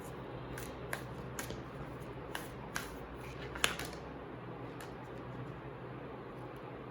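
A deck of oracle cards is shuffled by hand during a tarot reading, giving soft, quiet rustling broken by a few light flicks and snaps, close and without talk.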